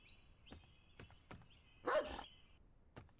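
A dog barking in a zombie survival video game, a handful of short sharp barks spaced irregularly, with one louder, fuller bark in the middle, against a quiet background and no talking.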